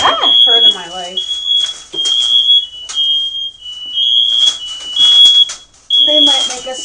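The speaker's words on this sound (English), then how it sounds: "That's the worst fire alarm I've ever heard in my life." A loud, shrill smoke alarm beeps repeatedly in a steady high pitch through the whole stretch, with people talking over it and a pause near the end.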